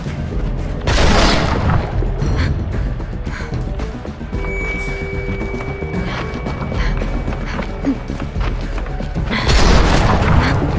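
Booming gunfire in The Walking Dead video game, loud blasts at the start and end with a dense rumbling game soundscape between them, no voices.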